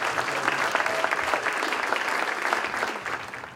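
An audience at a talk applauds a guest speaker, a full, steady round of clapping from a seated crowd that tapers off toward the end.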